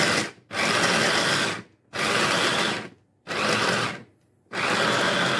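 An electric blender whirs in four loud sustained bursts with brief pauses between them, chopping garlic with parsley and coriander into a persillade, close up and without talking.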